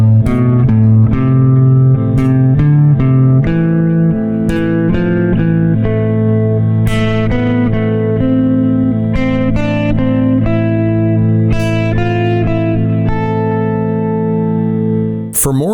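Electric guitar phrase played across the strings in one position, upper neighbor tones followed by higher punctuating notes, distorted with reverb; a continuous string of picked notes, loud and alone, ending with a sharp click.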